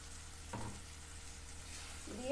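Okra goes into a pan of cooked-down spice masala, making a soft, low sizzle with a brief scrape of stirring near the start and a light clatter at the end, quiet and close.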